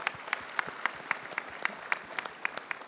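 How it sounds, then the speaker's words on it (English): Audience applause at the 2019 Perodua Aruz SUV launch event, a steady patter of clapping from a crowd indoors, moderately distant and even in rhythm throughout. "Let's give each other a big hand of applause."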